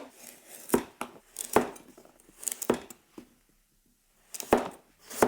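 A carbon-steel gyuto knife cuts carrots into cubes on a board, giving crisp, sharp chops in small irregular bursts with short pauses between them and a longer gap near the end.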